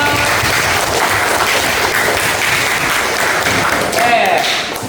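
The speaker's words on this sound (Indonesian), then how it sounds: "tepuk tangan buat kelompok 5" Classroom of students applauding group 5 after their presentation, a dense, continuous patter of clapping hands close by, swelling slightly near the end.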